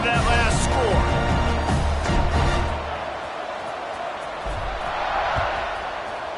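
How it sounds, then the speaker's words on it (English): Stadium crowd in College Football 26 buzzing with a broad, steady roar before a kickoff, louder at first with thuds and claps, then settling into a sustained murmur. "this crowd is buzzing after that last score"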